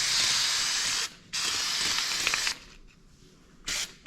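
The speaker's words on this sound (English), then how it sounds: "pick it up, use some Flex Seal, put a good coating on it." Flex Seal sprays onto an engine gasket while a budget race engine is being built, giving loud continuous aerosol hissing in two long bursts, a quieter lull, then a short final spray.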